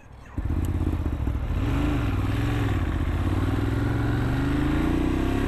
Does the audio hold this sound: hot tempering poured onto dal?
no